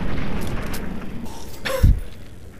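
A single heavy, booming shot in Fallout 3, fired at a ghoul, lands near the end after a stretch of low ambient game noise, with a deep thump and brief rumbling tail.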